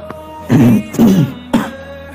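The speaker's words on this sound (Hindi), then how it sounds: "खांसी आ रही है" Three close, throaty coughs in quick succession, the last one shorter, with no talking around them.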